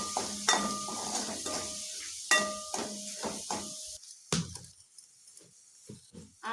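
Egg masala frying in a pan, with metal spoon scrapes and clinks against the pan in uneven bursts over a soft sizzle, close, fading to sparse taps.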